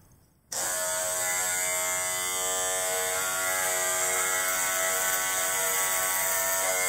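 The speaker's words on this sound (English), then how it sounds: "It was the first time ever that I shaved my chest" An electric shaver switches on abruptly and runs as a constant close buzz while chest hair is shaved, steady and loud for several seconds with no talking.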